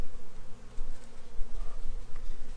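Honeybees buzz around an open hive during a hive inspection, making a steady, close drone of many wings that swells and dips slightly throughout, with no talking.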